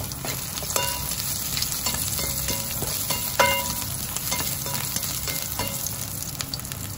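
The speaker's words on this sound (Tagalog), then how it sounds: "At magisa tayo ng bawang." Large garlic slices sauté in oil in a pan for a creamy chicken dish, giving a steady close sizzle with occasional light clinks of stirring and no talking.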